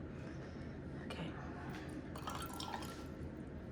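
Butterfly pea flower tisane is poured into a glass, giving a faint, close trickle with scattered drips and splashes. The sound is quiet and unbroken, with no talking.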